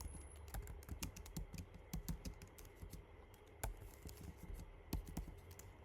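Rapid keyboard typing while entering Python code for a player-count loop, steady clatter of close, quiet keystrokes with a few louder key hits throughout.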